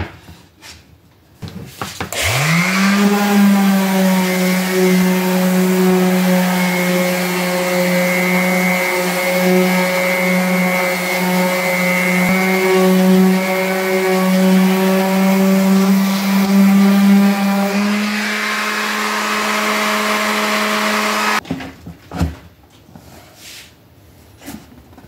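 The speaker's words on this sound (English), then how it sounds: "take the sander and just run it around the edge" A handheld power sander chamfers the bottom edge of a wooden slide-out cabinet pot rack, running as a loud, steady motor whine with strong harmonics for about twenty seconds before cutting off, with no talk.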